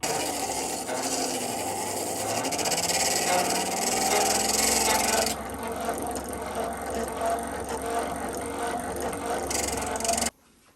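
An old blunt chisel sharpened on a vintage John Shaw & Sons Governor hand-cranked blade grinder makes a loud, continuous grinding rasp with a whirring mechanical drone, softening midway and stopping abruptly near the end, with no talking.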